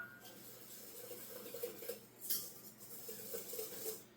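Whisk or spoon scraping and tapping against a bowl while a cup of flour is mixed into a runny batter of large homestead eggs, brown sugar and salt for cheese blintzes, a steady close clatter of utensil on dish.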